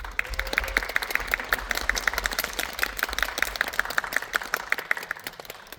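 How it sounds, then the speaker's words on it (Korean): Steady applause from a film screening audience welcoming guests to the stage, a dense patter of many hands clapping that continues throughout at moderate volume. "오늘의 주인공 두 분을 무대 위로 큰 박수로 모시겠습니다"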